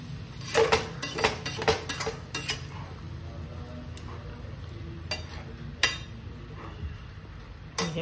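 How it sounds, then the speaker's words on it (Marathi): Sugar syrup bubbling in a pan over high gas, with a utensil scraping and clinking against the pan in irregular bursts and a soft continuous simmer beneath. "आता साखर विरघळून त्याचा पाक व्हायला सुरुवात झालेली आहे"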